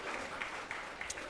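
A church congregation claps for Jesus during a sermon, a dense, even wash of applause that carries steadily through the short moment, with no talking over it.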